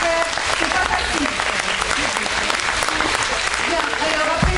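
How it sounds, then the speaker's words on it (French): A classroom audience applauds after a group presents a short text, a loud, dense and steady burst of clapping close to the microphone that lasts throughout, with faint voices mixed underneath. "On peut les applaudir"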